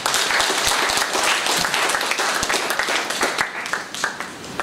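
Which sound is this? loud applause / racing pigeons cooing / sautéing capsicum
loud applause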